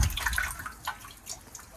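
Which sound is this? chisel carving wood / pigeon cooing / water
water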